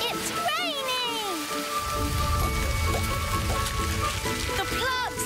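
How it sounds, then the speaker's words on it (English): Steady rain pours down across a cartoon kingdom, a dense broadband patter running throughout, with whistling musical tones and cartoon voices layered over it. "And clouds mean rain. It's raining."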